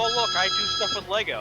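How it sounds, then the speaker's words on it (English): A cell phone ringing with a bright, warbling ringtone in repeated melodic bursts, sounding through a person talking close by. "I thought that was a cell phone."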